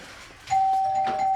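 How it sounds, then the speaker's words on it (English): A hotel room doorbell gives a single sustained electronic ring, clear and close, after a short quiet moment. "Doorbell?"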